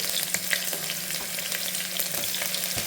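Long-cut onion slices fry in hot oil for a pudina rice bath, giving a steady, fairly loud sizzle with a few faint stirring clicks and no voice.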